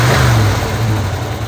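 A 1977 Chevy Camaro engine, revived after a decade dormant, runs at a high, steady fast idle that won't drop, a loud continuous low hum with slight wavering.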